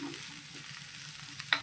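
Onion sautéing in a pan sizzles steadily and close up, with a brief stirring scrape near the end and no voices.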